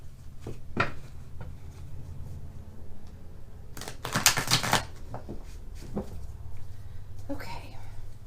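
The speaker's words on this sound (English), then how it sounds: "Maybe one more shuffle and we're good to go." Tarot cards are being shuffled, with a few riffling bursts and soft card slaps. One burst in the middle is louder and longer. Faint whispery voice sounds come and go between them.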